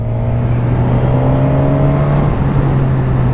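A 2021 Suzuki GSX-S 1000 four-cylinder motorcycle engine pulling hard, a loud, close, steady drone with a rising whining pitch, continuous and with no talking.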